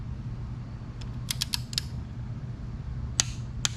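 A torque wrench set to 30 pounds tightens bolts during a 440 Six Pack engine rebuild. A few small, sharp clicks sound close but faint over a low background hum.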